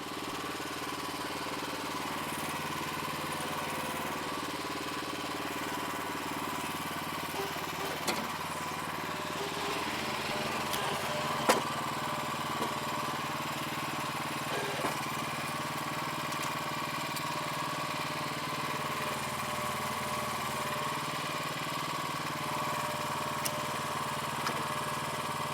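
A BCS two-wheel tractor fitted with a power harrow runs continuously in a market garden, giving a steady mid-pitched engine drone with a rough, rattling texture and occasional faint knocks, heard at moderate distance with no talk.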